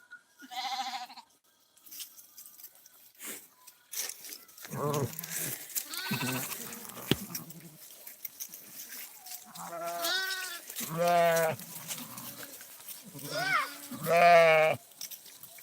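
Sheep and lambs bleat repeatedly, several loud nearby calls in bursts, with shuffling and rustling between them and no talking; a lamb is being held while the sheep graze.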